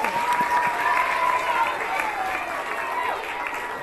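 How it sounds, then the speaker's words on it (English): Audience applause at a school demonstration event, a broad wash of clapping and crowd noise with some voices and a faint tone mixed in, holding steady then tapering slightly. "So everyone give Chichi a round of applause."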